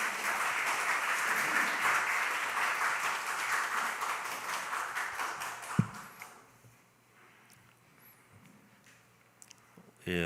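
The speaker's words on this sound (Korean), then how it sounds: "여러분 큰 박수로 맞이해 주시기 바랍니다" A church congregation applauds during a Sunday worship service as an elder comes forward to give a testimony. The clapping is dense and steady for about six seconds, then fades away, leaving a quiet room with faint small noises.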